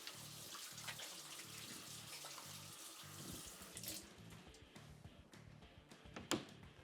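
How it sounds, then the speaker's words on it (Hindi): Hands are washed under a running tap, a steady faint stream of water with soft splashing and a few brief louder splashes near the end. "पहले हाथ धो लेते हैं थोड़े से"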